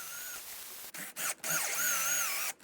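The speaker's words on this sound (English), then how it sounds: "I will finish drilling to full depth freehand" A power drill with a Forstner bit whines at high speed, stopping and restarting in short bursts as it bores freehand into wood, close and fairly loud.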